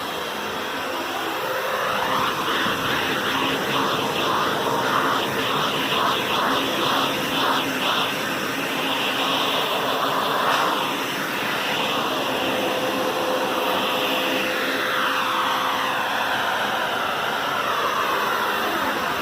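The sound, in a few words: HART wet/dry shop vacuum running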